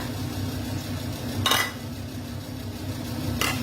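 Garlic being stir-fried in a pan, a low steady sizzle underneath with two short metallic scrapes of a utensil against the pan, close and fairly quiet, no talking.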